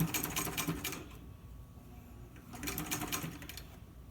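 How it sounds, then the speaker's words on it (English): Two short bursts of fast, rattling stitching come from a sewing machine running along a straight fabric edge, with a quiet pause between them. "And then just sew up the other straight side."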